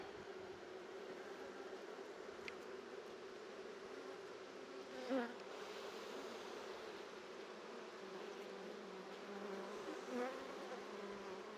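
Honeybees buzz steadily around an open hive at the end of the season, a dense continuous hum, with a few louder passes of single bees close by.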